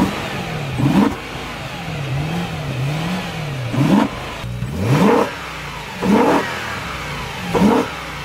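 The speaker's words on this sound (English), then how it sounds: "Let's go ahead and hear how it sounds." BMW E90 M3 V8 engine revved repeatedly at idle, with five sharp blips rising from a lumpy idle and falling back, loud and close with no talking.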